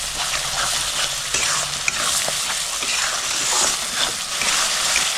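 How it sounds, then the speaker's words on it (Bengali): Spice paste for prawn malai curry, seasoned with salt and a pinch of sugar, fries and sizzles in oil while being stirred, a continuous loud hiss with scraping strokes of a spatula throughout. "মশলা ভালো মতো কষে নেবো।"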